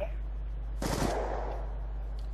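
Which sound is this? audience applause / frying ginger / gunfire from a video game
gunfire from a video game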